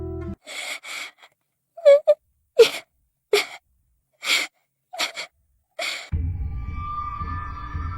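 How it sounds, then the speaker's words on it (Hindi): A ghostly crying wail rises and falls in a series of separate drawn-out sobs with silent gaps between them, an eerie effect in a Hindi horror story, followed by a low sustained drone. "तभी अचानक से रोने की आवाज और तेज हुई।"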